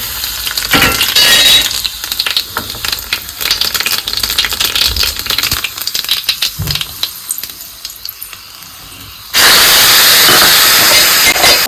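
Curry leaves, cumin and red chilli hit hot mustard oil in an iron kadhai for tempering. Scattered clinks and rattles come first, then a sudden loud, steady sizzling hiss takes over to the end.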